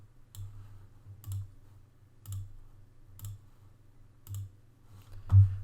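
Computer mouse double-clicks while nesting layers in After Effects, six crisp paired clicks at roughly one-second intervals, close and quiet over a low steady hum.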